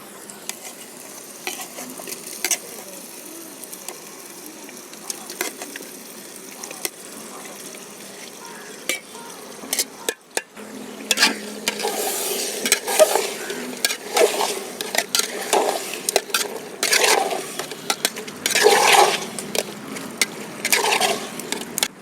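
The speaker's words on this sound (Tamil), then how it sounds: "இந்த சிக்கன் சேர்த்து ஒரு 10 நிமிஷம் நல்லா அது அப்படியே வேகட்டும்." Chicken added to onion, tomato and ginger-garlic frying in a kadai outdoors on a beach, with quiet scraping at first, then louder sizzling and repeated stirring strokes through the second half, no talking.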